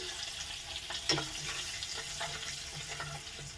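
Sesame flour frying with drumstick leaves in a pan, a continuous crackling sizzle with occasional scraping stir strokes, close and steady throughout, without speech.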